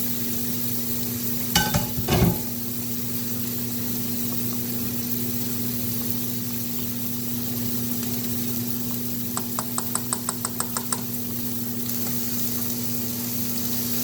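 Marinated salmon and vegetables sizzle steadily in a skillet on a stovetop, a constant close frying hiss with a couple of brief clatters and a quick run of light ticks partway through.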